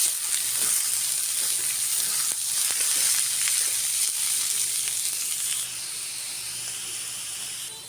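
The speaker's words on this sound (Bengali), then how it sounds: "সরিষা শাক ভাজা শেষ" Mustard greens fry in a pan with garlic paste, green chillies, salt and sugar, giving a loud, continuous close sizzle and hiss that steps down slightly in level near the end.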